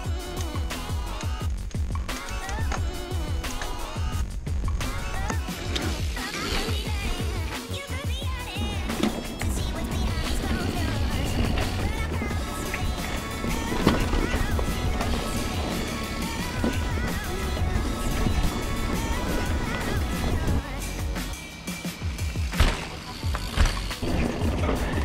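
2021 Specialized Enduro Comp and 2021 Orbea Rallon mountain bikes riding through mud on a trail, with continuous rumbling, rattling and splattering from tires and frames, loud and busy with clanks and thumps throughout.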